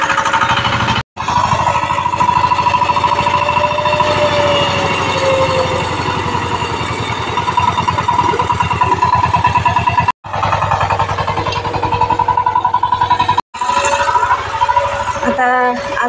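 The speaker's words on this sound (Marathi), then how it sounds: "ट्रॅक्टर आलेला आहे" A tractor engine works in a farm field cutting furrows, a loud, close, continuous rattling drone that breaks off briefly twice before running on.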